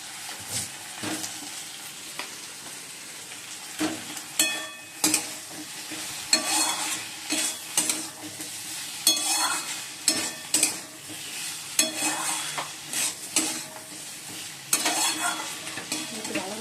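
Potatoes stir-fried in cooked-down spice masala, close sizzling with repeated scraping and stirring strokes of a utensil against the pan in an irregular rhythm, no talk.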